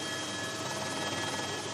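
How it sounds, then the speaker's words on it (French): A helicopter drones steadily in flight over the Ain gorges, a dense continuous rotor and engine roar filling the whole clip at even loudness. "L'hélicoptère poursuit son vol sur une dizaine de kilomètres"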